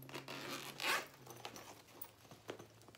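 Zipper on a handbag's center zip pocket being pulled, a close, quiet rasping zip with a few short follow-up scrapes and handling noises.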